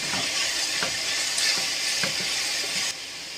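Fried tofu (atsuage) dropped into a hot pan sizzles steadily, a loud continuous hiss with a few soft clicks of stirring and utensil contact, no voices.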